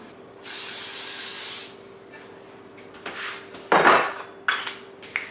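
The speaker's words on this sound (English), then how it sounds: "Make sure to spray your pan with cooking spray." A steady hiss of cooking spray on a pan lasts about a second, followed by light clatters of the pan and utensils close by.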